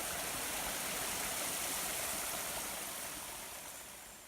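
Constant bright rushing and babbling of flowing water from a small stream in West Virginia backcountry, close by and steady, easing slightly toward the end.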